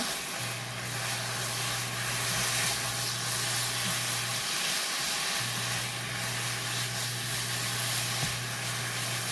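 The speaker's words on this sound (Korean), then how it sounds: "이렇게 해서 볶을 거예요. 살짝만 볶아줄게요" Ingredients being lightly stir-fried in a pan with oligosaccharide syrup for a rice-free gimbap filling, giving a steady, close sizzle and soft frying hiss that runs the whole time with no talking.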